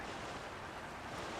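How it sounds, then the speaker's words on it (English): A fan-powered raft sails fast across a river in Zelda: Tears of the Kingdom, giving a steady, loud broadband rush of wind and water like surf, continuous and without talk. "It's sailing pretty fast with the wind from the fans."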